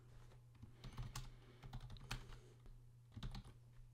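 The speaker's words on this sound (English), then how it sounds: "I'm just going to type in my first fascinating fact" Computer keyboard typing comes through as a run of soft, close key clicks in uneven bursts over a low steady hum.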